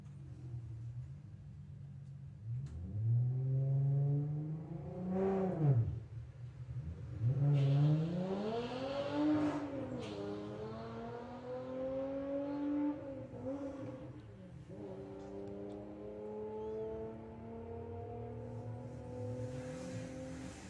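A Porsche on a drag strip during a drag racing event, its engine revving hard in rising and falling pulls that climb through the gears before settling into a steady, loud drone.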